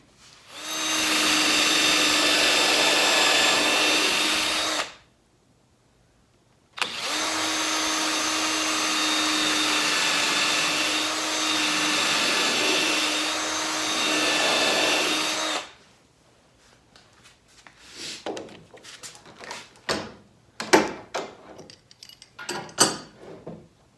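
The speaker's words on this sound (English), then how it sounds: "Now I can drill these out a little deeper" A power drill bores screw holes into pallet wood in two long, loud, steady runs with a short pause between, followed by quieter scattered clicks and knocks of handling tools and wood.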